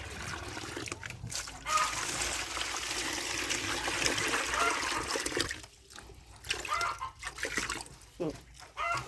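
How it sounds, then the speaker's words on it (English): Clean water pouring and splashing into a pig's container on a Nigerian farm, a steady close rush that breaks into intermittent splashes and trickles partway through. "So I'm going to be putting some water, some clean water for her."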